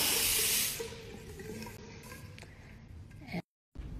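Water from a tap runs into a sloped slit sink, loud and hissing at first and then settling into a softer steady trickle, broken by a brief dropout near the end.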